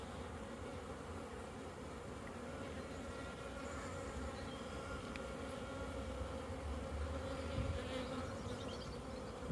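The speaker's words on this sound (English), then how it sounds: "There's bees in my eyes, Liam." A cloud of honeybees drones around an opened beehive, a continuous low buzzing hum at moderate distance with individual bees passing closer now and then, no voices.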